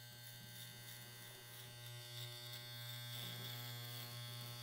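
A hair trimmer runs steadily with a thin, even electric buzz and a harmonic whine, continuous and fairly quiet throughout with no talking over it.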